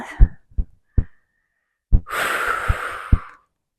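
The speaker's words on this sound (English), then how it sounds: "Sorry, you have to hear my heavy breathing." Short thumping breaths followed by a long, forceful exhale with a rushing, breathy hiss during a workout, close to the microphone.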